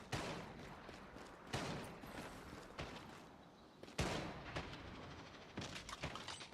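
Deployed turrets firing in the Once Human survival shooter game, heavy booming shots at irregular intervals over rumbling background noise, fairly quiet overall.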